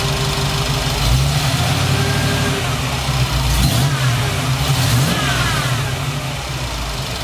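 An early Ford Bronco engine fitted with Holley Sniper EFI runs loud and close, rumbling steadily with two quick revs that rise and fall before it drops back toward idle.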